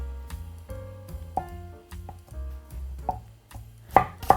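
A knife cuts Spam, halved and sliced about tofu-thick, on a cutting board, making a series of close, crisp chops at an uneven pace with sharper knocks near the end, with no talking.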